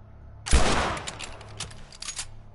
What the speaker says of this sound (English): I can shoot this motherfucker right in the head.